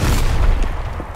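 Propane tank explosion in Gears of War Ultimate, a short, loud, close boom with a deep rumbling body that decays quickly over about a second.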